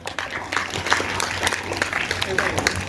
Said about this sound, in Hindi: जोरदार तालियां बजाई जाए इस बालिका के लिए